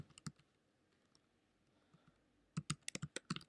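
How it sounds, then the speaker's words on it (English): Code is typed on a computer keyboard during a programming tutorial, a few soft isolated key clicks followed by a quick burst of close, crisp keystrokes in a quiet room. "And now let's start typing the code."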